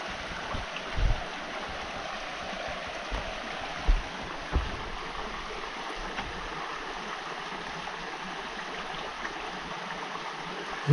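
A low-flowing mountain stream on an early fall hike in the Pemigewasset area gurgles softly and steadily in the background, quiet and continuous, with a few faint knocks and bumps near the listener.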